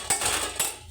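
A lid set onto a cooking pot of egg curry in a home kitchen, with two quick metallic clinks close by followed by a faint ringing tail.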